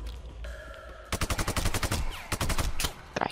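Bursts of gunfire in the Sniper Ghost Warrior 2 video game: a rapid volley of sharp, loud shots after a low hum, a second burst following a brief pause, and a few scattered shots at the end.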